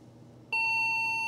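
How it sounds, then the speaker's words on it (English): A single loud, sustained electronic POST beep blares from the speaker of an old XT clone PC, starting abruptly after near silence and holding steady to the end. "Whoa, that was a loud beep."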